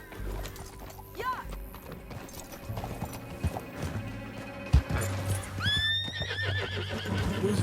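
In the Red Dead Redemption 2 game, a horse's hooves clip-clop at a walk while it gives a couple of high neighs and whinnies, with a louder whinny near the end over light background game sounds.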